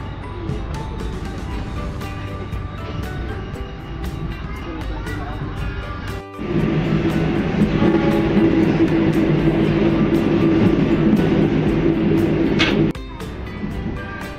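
The Pangrango passenger train between Bogor and Sukabumi rumbles along the rails in a steady, continuous roar that swells louder midway, with faint rhythmic clicks and occasional speech.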